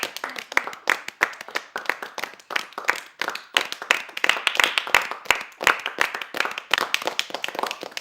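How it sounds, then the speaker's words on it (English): Classroom of pupils clapping for the winners of a game, a dense run of quick, uneven hand claps that carries on steadily with no voices over it. "Please clap for them."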